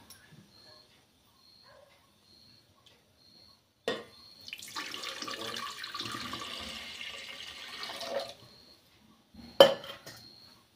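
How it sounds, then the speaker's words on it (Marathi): Water poured from a pot into an aluminium idli steamer, a steady splashing gush lasting about four seconds, preceded and followed by light metallic clinks of the vessel, with no talking. "तर आता आपण ह्याच्यात 1 तांब्या पाणी ओतून घेऊया।"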